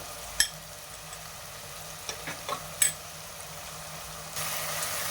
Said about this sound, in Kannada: ಶುಂಠಿ ಬೆಳ್ಳುಳ್ಳಿ ಪೇಸ್ಟ್ ಫ್ರೈ ಆಗ್ತಾ ಇದ್ದಂಗೆ 2 ಸ್ಪೂನು ಹಸಿಮೆಣಸಿನ್ಕಾಯಿ ಪೇಸ್ಟ್ ಹಾಕೋತಾ ಇದ್ದೀನಿ